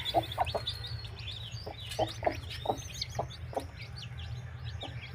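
A hen on a poultry farm clucks repeatedly in short, low, rhythmic bursts, close by, over a steady background hum with faint chirps from other birds.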